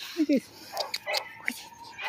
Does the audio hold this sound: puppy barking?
yes